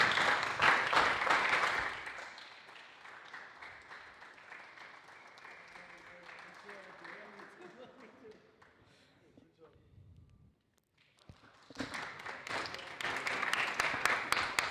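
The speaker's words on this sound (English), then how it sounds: "a round of applause for Andre Fish" Crowd applause bursts out at a Japan VGP event in the Teleios Dome, loud at the start, fading under a voice, then swelling again near the end.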